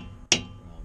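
A single sharp metallic strike as a punch locks the washer against a car's axle nut, one close, loud hit standing alone.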